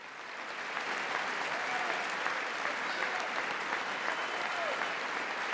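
Members of Congress applauding during a speech, a dense sustained wash of clapping from a large room that swells in after the first second and holds steady, with faint voices mixed in.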